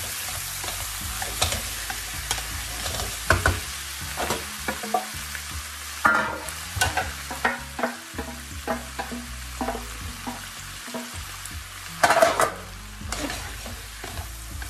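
Bell pepper and shallots fry with mushrooms in a hot pan while a utensil knocks and scrapes against it in steady, close strokes over a constant sizzle, with a louder burst of clatter toward the end.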